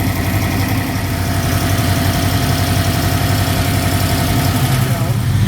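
A 1995 Saleen S351 Mustang V8 idles at a steady low rumble just under 1,000 RPM, loud and close with a constant vibrating drone throughout.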